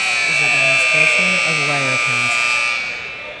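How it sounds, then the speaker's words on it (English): A hockey game buzzer at a Williston State versus University of Cincinnati matchup sounds as a sustained electronic tone across the rink while an announcer talks over it. "As buzzer goes here, and Tetons will be moving down."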